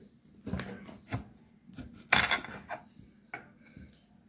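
Fried rice being stirred and mixed in a pan, giving a run of scattered, irregular scraping and clattering knocks of utensil on pan, moderately close, with one louder burst of clatter midway.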